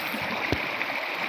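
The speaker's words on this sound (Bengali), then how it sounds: "পাথরের খোল দিয়ে কীভাবে স্রোত নামতেছে, প্রত্যেকটা পাথরের গোড়া দিয়ে নামতেছে।" A stream at Bichanakandi in Sylhet flows down between stones and around the base of each rock, making a steady, close, rushing wash of water with no break.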